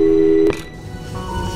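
A phone call is placed in the Portal 2 video game: a steady electronic dial tone holds for about half a second, a short click-like burst cuts it off, and a quieter line hum with faint tones follows.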